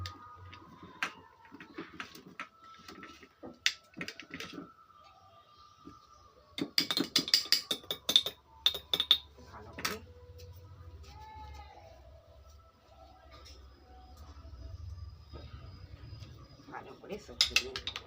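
Vegetables with two spoons of vinegar are stirred in a pot with a ladle, giving a cluster of quick metallic clinks and scrapes midway, with a voice talking quietly around them.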